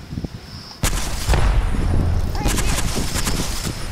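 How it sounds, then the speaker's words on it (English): Gunfire in the video game Apex Legends: after a quiet start, sustained loud rapid shots and bursts with booming impacts run continuously, with a player's voice faintly underneath. "I am taking fire, friends."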